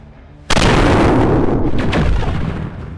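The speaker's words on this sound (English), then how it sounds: "Volkov fires both her PPCs." A BattleTech mech in a video game fires both its PPC weapons, a sudden loud blast that stays as a dense roaring discharge for over two seconds before tapering.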